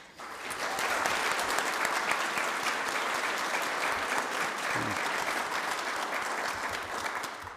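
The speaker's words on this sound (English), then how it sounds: "Oh, you guys started clapping before I finished my joke." Sustained audience applause at a warden's inauguration ceremony, a dense, steady wash of many hands clapping that holds evenly throughout with no talk over it.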